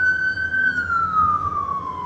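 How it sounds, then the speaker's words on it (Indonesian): Ambulance siren on a Los Angeles street near the stadium, a single loud wailing tone sliding slowly downward in pitch as the vehicle passes close by, with no talk over it. "Kita lihat dulu nih, lagi ada ambulan lewat guys."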